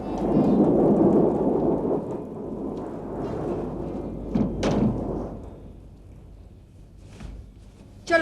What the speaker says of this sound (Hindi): वो बारिश एकदम आ गई